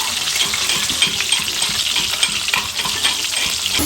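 Food frying in a pot, a loud crackling sizzle with repeated stirring scrapes and small metallic taps in an irregular rhythm, no speech.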